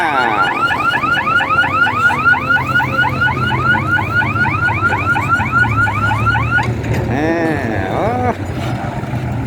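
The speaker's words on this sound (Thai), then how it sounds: "สัญญาณเตือนภัย" A car alarm wails loudly and close by, cycling rapidly up and down in a repeating pattern before switching to a slower, different tone.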